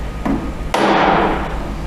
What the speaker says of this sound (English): take our piece of PVC pipe, put it over that tool, take our hammer and give that a good hit